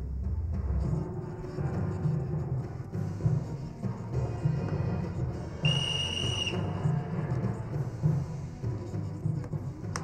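A parrot whistles one clear, steady, high tone lasting under a second, rising over a constant low rumble of background noise.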